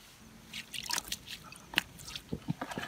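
Water poured into a mixture before blending makes soft, irregular drips, splashes and squishy sloshing sounds, quiet and close, with scattered small wet taps.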